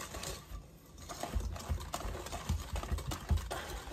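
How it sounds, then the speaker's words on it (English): A thick mixture is whisked by hand, quick rhythmic tapping and scraping strokes close by, fairly quiet and steady with no speech. "Okay, so I think this is my last whisking."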